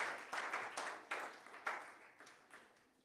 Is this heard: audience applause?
yes